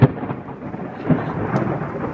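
Thunder rolls and rumbles loudly through a full-moon thunderstorm in Swindon, England, on a June night, with steady rain pattering throughout and a sharper crack near the start.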